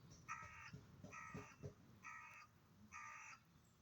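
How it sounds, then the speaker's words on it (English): A crow calling in quiet woods, four evenly spaced harsh caws, fairly distant and faint, with soft low rustling between the calls. "Crow."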